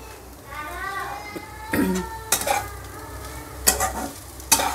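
Egg scrambled in a pan after frying potato: soft sizzling and scraping stirs, with sharp spatula clacks against the pan at intervals, while children's voices chatter nearby.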